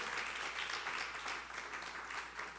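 A church congregation applauding during a general service, a dense, steady wash of many hands clapping that swells and holds, heard from within the room.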